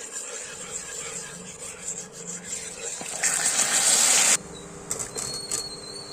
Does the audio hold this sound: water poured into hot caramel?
yes